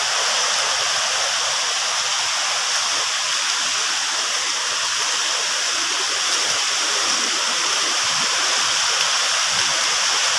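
Water of a creek rushes steadily at close range, a loud, continuous broadband wash with no pauses, ending as a group crosses the stream on a return visit in Leyte.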